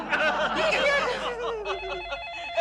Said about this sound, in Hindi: फिर से फोन आया।